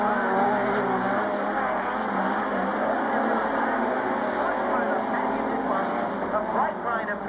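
Modified sedan race cars roar around Carrick Speedway during a 1998 Australian title race, a loud continuous engine drone with a commentator talking over it throughout.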